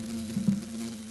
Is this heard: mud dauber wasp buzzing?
yes